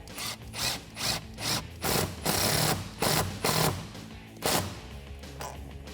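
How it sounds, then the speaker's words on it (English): A 10mm socket ratchets a clamp tight on the cold air intake of a 2019-2020 RAM 1500 5.7L, coming as a series of short, close clicking bursts with brief pauses between them and no talking. "We can tighten up the clamp on this side using the same 10mm socket."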